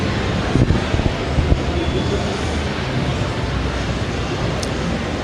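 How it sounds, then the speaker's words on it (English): A jet aircraft in Bayonetta 2 gives a continuous, loud, windy roar that holds steady throughout, with a few faint thumps early on. "maybe flying on the back of a jet aircraft"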